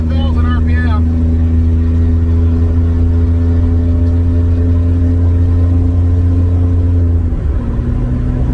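A car engine revs hard at around 5,000 RPM, a loud, steady, smooth mechanical drone held for several seconds before the pitch drops as the throttle eases off.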